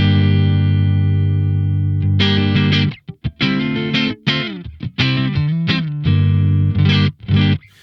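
An electric guitar played through a Crazy Tube Circuits Crossfire pedal on its Blackface side with the bright switch off gives a dry, clean-to-crunchy tone: a sustained opening chord, then choppy strummed chords and short riffs with brief gaps.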